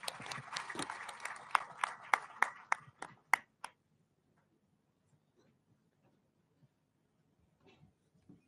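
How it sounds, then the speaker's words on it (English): A small audience claps for a guest speaker at a symposium, a short burst of scattered claps from a few hands that thins out and stops after about three seconds, followed by near silence. "A round of applause for our guest speaker."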